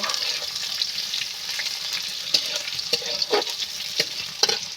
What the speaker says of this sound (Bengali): পেঁয়াজটা ভালো করে আমি এইভাবে নেড়ে নেব